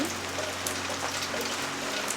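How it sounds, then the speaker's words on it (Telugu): Steady heavy rain pours down, a dense continuous hiss of drops striking a surface, close and unbroken throughout. "ఇప్పుడైతే చాలా పెద్ద వర్షం పడుతుందండి"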